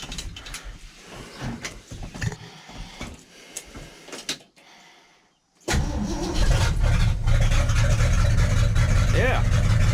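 An old car with no muffler cranks and clatters several times, goes briefly quiet, then fires and settles into a loud, raw, continuous running roar up close.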